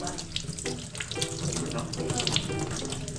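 Cold tap water runs steadily into a sink for face washing on a chilly morning in Baguio City, a continuous splashing gush filling the whole moment at close range.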